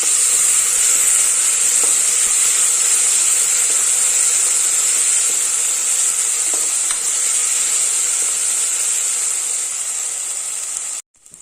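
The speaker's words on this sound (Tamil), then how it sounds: "நம்ம இப்போ இஞ்சி பூண்டு பேஸ்ட் சேர்த்துடலாம்." Ginger garlic paste and onions fry in oil with a constant bright sizzle and occasional stirring ticks, loud and close throughout before cutting off abruptly at the end, no speech.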